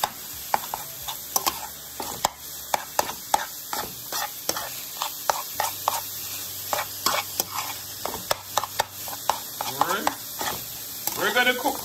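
Ground pork sizzles in a hot pan while a utensil stirs and scrapes it, steady frying hiss punctuated by frequent sharp clinks and scrapes, close and fairly loud.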